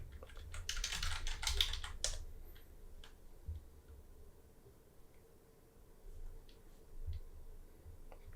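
A computer keyboard being typed on in a quick burst of close clicking, followed by a few sparse, quieter key taps in a quiet room.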